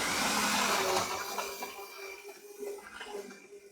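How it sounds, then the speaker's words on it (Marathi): A kitchen mixer whirs loudly, blending yogurt, sugar, rose syrup and a couple of ice cubes into lassi, then winds down with its motor whine fading and a few rattling knocks as it slows. "आता हे आपण मिक्सरला फिरवून घेऊया।"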